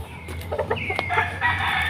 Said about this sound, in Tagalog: Subukan natin pakainin kung kumakain ba yung alaga nating manok dito